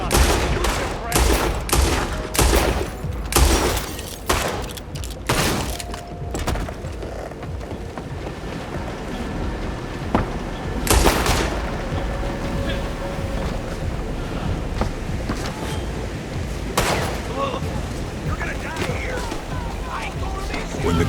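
Gunfire in the video game Red Dead Online: a rapid flurry of loud shots over the first several seconds, then scattered single cracks, all over a constant windy rush with faint talk.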